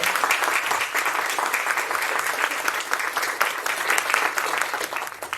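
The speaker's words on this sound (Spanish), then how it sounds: "Un fuerte aplauso y los dejo sin más." An audience applauds at a stage presentation, steady dense clapping that fills the room for several seconds and tapers slightly at the end.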